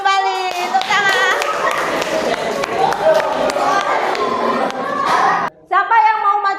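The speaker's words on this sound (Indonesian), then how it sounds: "Tepuk tangan." Students in a classroom clap together in a burst of quick, close hand claps, with children's voices mixed in, a brief gap, then more clapping.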